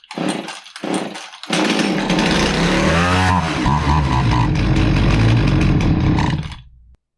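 A Jonsered 2050 chainsaw sputters through a couple of short starting bursts, then runs at a loud, rough, uneven throttle that bogs and wavers for several seconds before cutting out, close by with no talking.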